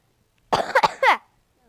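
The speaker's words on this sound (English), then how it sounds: "Oh, I got a cough." A single loud, close cough burst in two or three quick rasping pulses, then silence.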